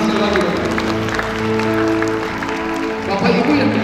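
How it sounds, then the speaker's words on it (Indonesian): Church congregation clapping during a Christmas service at GBI Kima, a steady wash of applause layered over sustained music and voices throughout. "Tepuk tangan sekali lagi."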